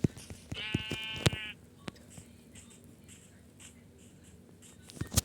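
A synthetic sheep bleat sounds briefly amid clicks and sharp taps, followed by quieter clicking.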